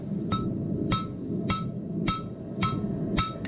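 A blacksmith's hammer strikes hot metal about twice a second, six sharp ringing blows flattening a piece into a leaf shape over a low background hum.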